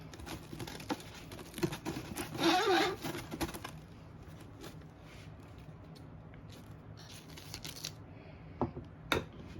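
Packing tape pulled off a roll with a loud screeching rip, among scattered clicks and rustling handling noises close by.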